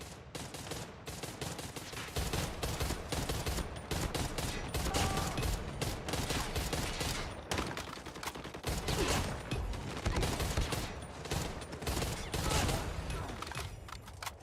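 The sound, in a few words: hip-fire gunshots in Call of Duty Mobile video game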